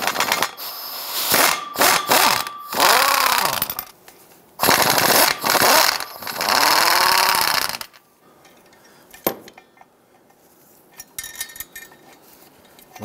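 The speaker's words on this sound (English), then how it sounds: "We're gonna use our impact gun" An impact gun loosening Torx bolts on a 2011–2019 Ford Explorer 3.5L driveline, two loud rattling bursts of a few seconds each, followed by quieter metallic clinks and taps.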